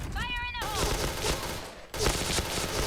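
Gunfire in the online shooter PUBG, with rapid bursts of shots in quick succession mixed with a player's excited voice over the game's noise.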